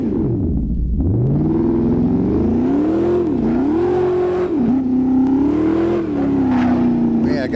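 A modded race car engine in a racing simulator game holds a loud, continuous in-gear drone, its pitch climbing, dipping and climbing again as the revs rise and fall.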